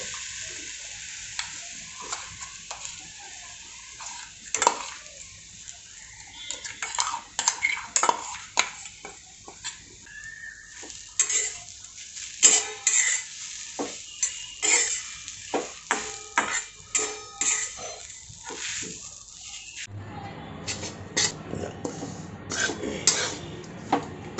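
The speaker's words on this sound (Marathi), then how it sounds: "याच्यात आता मिक्सरला बारीक केलेली आपण खोबऱ्याची चटणी परतून घेऊयात" Ground fresh coconut chutney fries in hot oil in a kadhai over a low flame. A spatula scrapes and clinks against the pan again and again, with a soft sizzle underneath and no talking.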